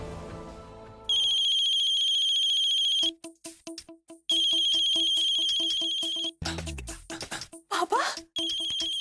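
A mobile phone rings with an incoming call, a loud electronic ringtone of repeating bright tones that plays in bursts, broken by brief pauses and a few scattered noises.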